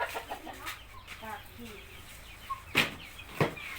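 Chickens cluck and call in short bursts close by at a rural Thai home, with a couple of sharper squawks standing out while people talk nearby.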